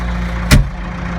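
A steady low engine idle rumbling close by, with one brief knock or thump in the middle.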